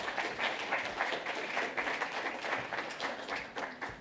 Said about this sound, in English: Round of applause for Matt, please.